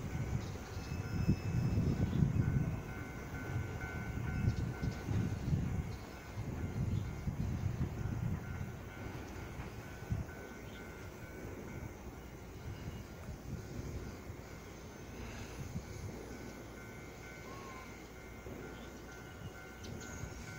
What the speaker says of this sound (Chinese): 已经有列车通过